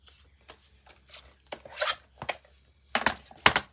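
Paper being cut for a vintage-style scrapbook page, heard as short, close, quiet snips and crisp rustles in irregular bursts against a near-silent background.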